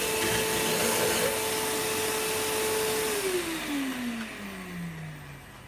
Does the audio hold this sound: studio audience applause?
no